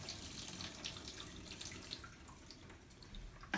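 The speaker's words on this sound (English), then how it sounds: "just let it fill up with water, just like this" Tap water runs steadily into a film developing tank at a darkroom sink, a continuous close splashing rush with small drips, no voices.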